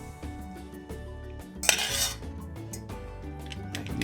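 A metal ring mold clinks and scrapes against a plate as rice is shaped into a small tower, with one sharper clatter near the middle over steady background music.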